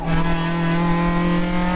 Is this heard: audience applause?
no